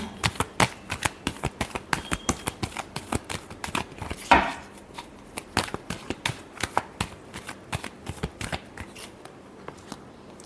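Tarot cards being shuffled by hand in a rapid, steady run of crisp riffling snaps, close and fairly loud, with one louder flutter midway and no talking.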